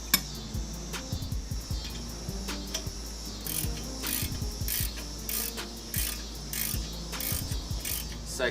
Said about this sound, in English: After it's loose, I'll use a ratchet with the socket to get it off the rest of the way.